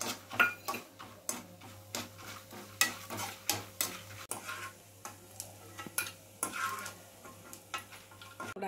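Curry leaves and fried chana dal in a hot pan, giving off soft crackling sizzles and scattered clinks of stirring against the pan, close and fairly quiet with no talk.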